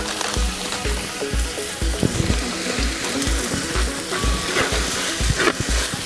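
Sliced onions fry in a pan with turmeric and salt for a Kerala-style rabbit roast, giving a steady close sizzle with rhythmic soft knocks from stirring.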